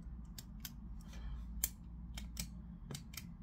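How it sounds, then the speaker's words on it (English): A Parker Jotter pen is clicked repeatedly, producing sharp, close, quiet clicks at an irregular rhythm over a low background hum. "one of my first pens that got me into to EDC is the Parker Jotter. Got a super nice clicky sound and action."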